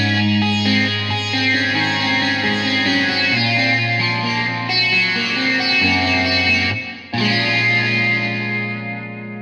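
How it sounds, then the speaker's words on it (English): Evolution Sitardelic virtual sitar played through amp and cabinet simulation. It gives a buzzing, distorted, reverberant melodic line with sustained droning tones and a brief break near the end. "Let's hear some amp and cab simulation."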